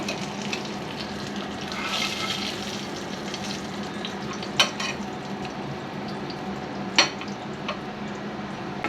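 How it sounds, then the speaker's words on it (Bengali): Onions frying in a pan as they are stirred, a soft continuous sizzle with a couple of sharp scrape-clicks from the spatula, moderately quiet and close, no speech. "পেঁয়াজটা একটু ভেজে নিচ্ছি"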